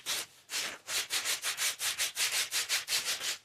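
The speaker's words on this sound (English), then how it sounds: "I'll start with some 80 grit that clearly goes on an orbital sander, but I'm gonna use my hand because screw that." An axe is sanded by hand with 80 grit sandpaper, a close series of about fifteen rhythmic rasping strokes that quicken into an even back-and-forth.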